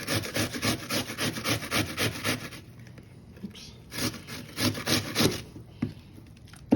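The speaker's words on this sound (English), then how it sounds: "once you've grated mostly all of your onion" An onion rubbed back and forth on a flimsy Good Grips grater, a rhythmic rasping scrape in quick regular strokes that pauses briefly midway before resuming, close and fairly loud with no talking.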